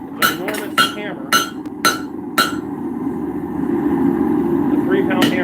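A small 1.25-pound hammer strikes metal in blacksmithing, five sharp ringing blows in an uneven rhythm over about two and a half seconds, then stopping while a steady low hum continues underneath.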